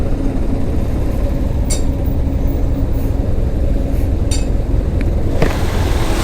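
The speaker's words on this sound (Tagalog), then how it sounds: "Sobrang traffic nga naman." Dense road traffic rumbles steadily through La Trinidad, Benguet, with low engine drone throughout and a few brief higher-pitched clicks and hisses from passing vehicles.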